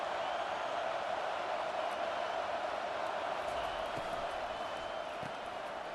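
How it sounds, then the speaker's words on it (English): A packed football stadium crowd at a Notre Dame league game roars in a steady, sustained wash of noise, heard from a distance as an unbroken, muffled din with no single voice standing out. "This crowd, full throat, sweating the eardrums and letting them know it's going to be a long day"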